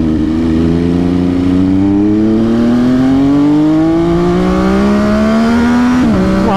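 MV Agusta F3 800 motorcycle accelerating hard, its engine note climbing steadily in pitch through a long pull before a brief shift near the end, loud and close with continuous wind rush.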